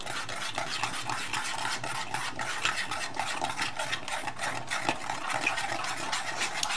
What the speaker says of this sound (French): mélanger avec le lait de noisette et je vais mettre une cuillère à café d'agar-agar